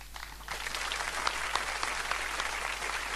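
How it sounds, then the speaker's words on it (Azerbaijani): Audience applause for Çiçək xanım at an Incegulu saz-and-poetry festival event in Azerbaijan, a dense, steady clapping from a crowd that swells slightly after the opening half second and holds evenly throughout. "sizin hamınızdan bir mənalı şəkildə Çiçək xanıma bir alqışlar istəyirəm"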